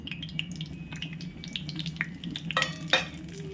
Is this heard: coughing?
no